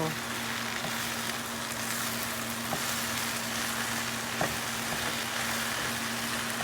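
Onions and mushrooms sizzling in a pan with steak seasoning, a dense continuous frying hiss with occasional light clicks of stirring, close and steady, no speech.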